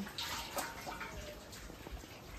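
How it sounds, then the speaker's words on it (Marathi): Water pouring steadily into a container, a continuous splashing rush at close range with no talking. "आता मग त्याच्यात थंड पाणी टाकायला घ्यायचा त्याच्यामध्ये"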